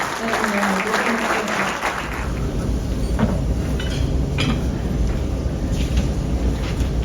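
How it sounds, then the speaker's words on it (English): Audience applauding at a golf course superintendents' awards ceremony, a steady wash of clapping from a crowd that starts under a voice and continues alone, moderately loud and even. "So let's give Randy a round of applause for being our 9-Hole Superintendent of the Year."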